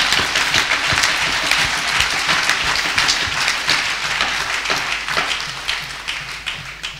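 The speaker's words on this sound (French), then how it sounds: "Acclamons le Seigneur." Church congregation at a crusade in Yaoundé applauding to acclaim the Lord, a dense, steady wash of many hands clapping at fairly close range that holds for several seconds, with a few faint voices mixed in.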